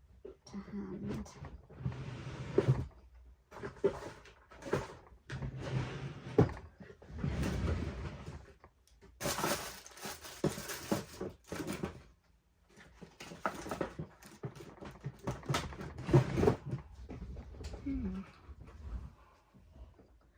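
Someone in a craft studio rummages through desk drawers hunting for a cutting tool: repeated bursts of clattering, sliding and knocking objects, drawers shifting and items tossed about, loud and irregular with brief pauses between flurries.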